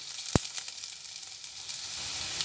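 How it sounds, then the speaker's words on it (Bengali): Onion frying in oil in a pan, a steady soft sizzle running throughout with one sharp clack near the start, no voices. "পেঁয়াজ কিছুটা ভাজা হতে হতে এর মধ্যে অল্প পরিমাণে হলুদ দিয়ে দিলাম"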